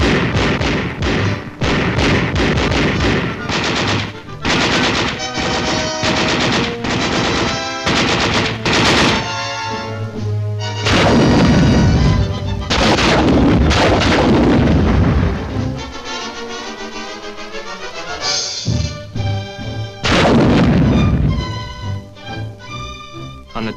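Small arms and crew-served weapons fire on an infantry training range, loud rapid automatic bursts and heavy booming shots over a mix of period narration-free soundtrack.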